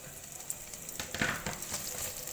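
Chopped onion and three slit green chillies sautéing in a pan, a soft steady sizzle with a brief stir or scrape near the middle, quiet and close.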